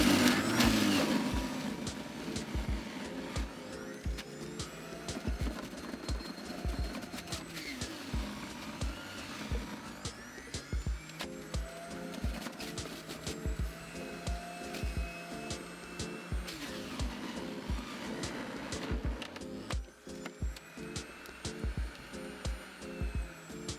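An electric juicer machine juicing carrots in a kitchen, a steady whirring motor hum with irregular grinding rattles throughout, fairly close and constant, no talk.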